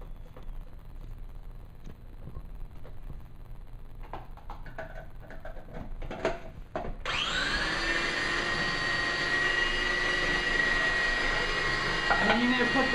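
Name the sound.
blender blending a creamy mixture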